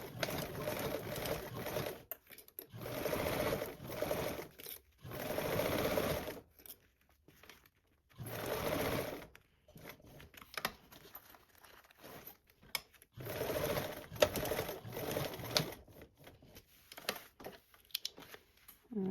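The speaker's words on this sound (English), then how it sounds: "Now you're going to sew with a 1/4 seam allowance." Sewing machine stitching a 1/4 inch seam on fabric, running in several steady bursts of mechanical whirring separated by brief pauses, close and alone.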